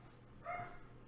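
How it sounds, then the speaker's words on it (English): A dog barks once or twice from a room away, a brief harmonic burst rising above a steady low household hum. "sorry for my dog barking"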